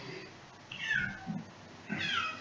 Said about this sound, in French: le chat est en train de défoncer la porte